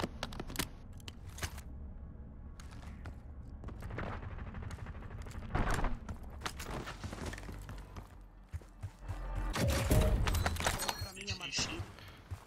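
Gunfire in a Portuguese-language online shooter match, with scattered sharp shots and short bursts at varying distances, some faint and some closer, mixed with game sounds and intermittent voices talking.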